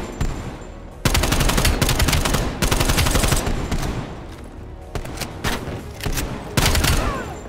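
AK-74 fire in Call of Duty: Black Ops Cold War comes in loud, rapid automatic bursts separated by brief pauses, up close and dominating the mix, with no voices over it.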